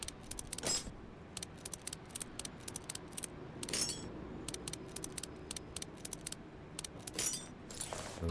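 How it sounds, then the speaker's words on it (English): Wheel bolts come off a car in Car Mechanic Simulator 2014 as a series of sharp metallic clicks and ratcheting ticks, repeated irregularly over a quiet background. "Click on it until you take the bolts out."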